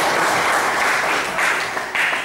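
An audience breaks into dense, steady applause at a gathering, a continuous wash of many hands clapping that lasts about two seconds.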